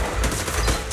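Rapid bursts of gunfire in the video game Zenless Zone Zero sound as a loud, dense volley of several quick shots within a second.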